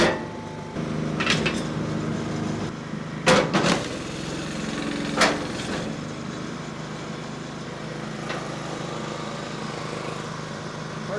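A MechMaxx 34-ton kinetic log splitter works through a heavy, knotty firewood log outdoors, its engine droning steadily while a few sharp cracks and thumps of the ram hitting wood stand out near the start and middle.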